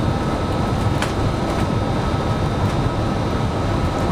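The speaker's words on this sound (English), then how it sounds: "under the L, the elevated train, going through Dearborn." Chicago L elevated train passing overhead near Dearborn and Van Buren downtown, a steady loud broadband rumble and roar throughout, with faint metallic squeals on top.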